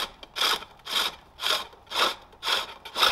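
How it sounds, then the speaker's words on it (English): A hook tool on a pole lathe cuts down the core of a wooden bowl in six rhythmic, evenly spaced rasping strokes about half a second apart, close and clear with no talk. "Now I'll just need to turn down the core and snap it out"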